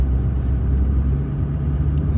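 A dually pickup truck's engine strains while stuck in mud and snow, a loud, steady low rumble with slight throttle swells and no talk.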